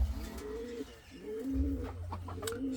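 Indian fantail pigeons coo in repeated low, rolling phrases inside a coop, several soft calls in a row with brief gaps, close by against a steady low background hum.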